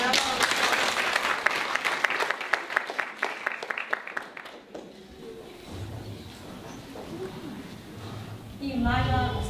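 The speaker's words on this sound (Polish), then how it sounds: "Prosimy o brawa." Audience applause at a Warsaw lecture and historical fashion show, a dense burst of clapping in the opening seconds that fades out, followed by quieter room sounds and a voice.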